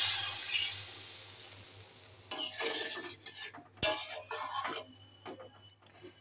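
Water poured into cooked-down masala in a pan for a Japani puti fish curry, a rushing hiss at first, then clinks and scrapes of a utensil against the pan and a sharp knock.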